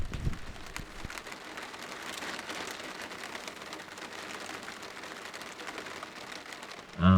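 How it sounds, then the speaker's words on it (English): Steady rain patters on surfaces beside a river in remote Idaho during a thunderstorm, a dense even hiss close by, with a few thumps at the start and a sudden loud noise at the very end. "it is raining quite a bit if you couldn't tell"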